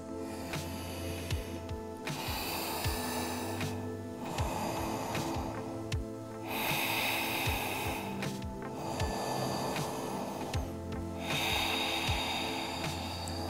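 Slow, deep breaths during a yoga forward fold, hissing inhales and exhales alternating in long cycles of a few seconds each, close and clear with no talking.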